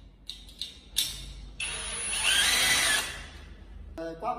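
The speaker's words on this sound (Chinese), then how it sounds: "上螺丝固定挂板。" Power drill driving screws to fix an air conditioner's wall mounting plate: a few short bursts, then a sustained whirring run that stops abruptly, fairly close.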